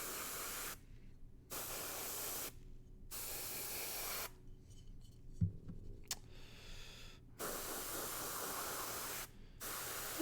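An Infinity CR Plus airbrush sprays paint in several bursts of steady hiss separated by short silences, close and fairly quiet with no talking.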